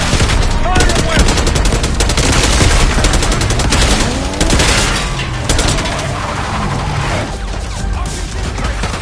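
Dense, continuous gunfire and explosions from Call of Duty Black Ops 6 during an assault, heavy automatic fire crashing and booming without letup, loud and close, with faint voices buried in the mix.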